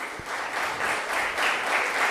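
Applause from the audience at a biotech skilling programme session, a continuous, even clapping of many hands at moderate loudness, alone without talk.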